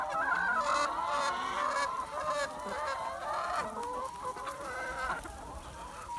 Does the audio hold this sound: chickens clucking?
yes